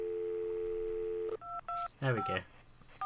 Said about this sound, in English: I'm dialing the wrong phone.